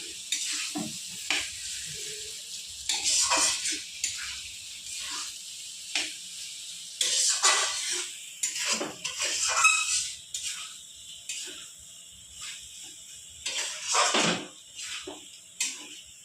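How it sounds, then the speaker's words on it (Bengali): Shrimp and potato masala being stirred in a pot with the lid off: the spoon scrapes in repeated irregular strokes over a loud sizzle and crackle, with bursts of frying hiss between stirs. "এবার আমি ঢাকনিটা খুলে আবার একটু নেড়ে চলে নেব আমি আবার পাঁচ দশ মিনিট এটাকে একটু কষাবো"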